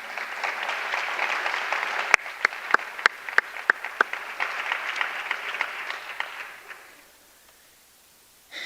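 A crowd at a conversation event applauds steadily, with a few sharp, loud individual claps standing out early on, before the clapping fades away to near silence.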